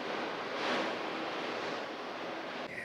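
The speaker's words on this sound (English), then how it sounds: "Just windy, rainy." Wind and rain from Hurricane Ian sweeping a residential street in Florida, a steady broadband rush of gusting wind with a brief swell, fairly faint and constant with no voices.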